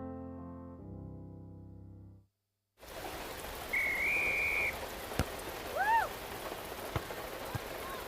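Steady rain falls on a surface, a dense wash of drops with a couple of brief whistle-like tones rising over it, following a short stretch of music and a silent gap.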